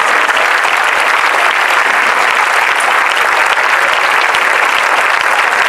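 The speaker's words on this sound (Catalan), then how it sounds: "Us demano un aplaudiment per totes elles." A large crowd at a political referendum rally in Tarragona claps loudly and continuously, a dense, even roar of applause with no pauses.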